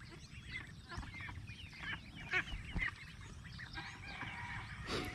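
Ducks call in a steady chatter of quacks and honks while foraging for snails, fairly faint and continuous with overlapping calls throughout.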